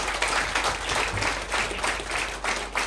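A conference audience claps in a moderate, uneven patter, the applause fairly quiet and somewhat distant in a large hall.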